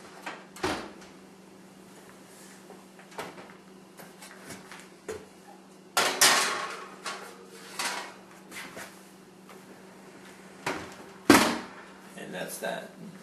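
A quiche pie crust is slid into a 375-degree oven, with bumps and knocks of the oven door and rack. Scattered clatters and one sharp thud stand out over a quiet kitchen hum, with a voice talking between them.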